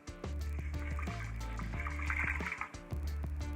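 Water is poured from a bowl into an Instant Pot for lentil soup, a steady close splashing fill with soft clunks of the pot and bowl throughout.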